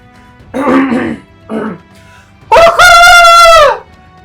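A voice imitates a rooster's crow, a loud drawn-out rising call that follows a couple of short grunting vocal sounds.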